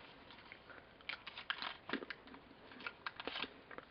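A child bites into and chews Kinder egg chocolate, giving soft close crunches and crinkly munching in scattered bursts against a quiet background.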